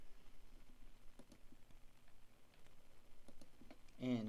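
Computer keyboard typing heard as quiet, scattered clicks at a moderate pace, entering a unit name into a unit-conversion application, with a brief louder burst near the end.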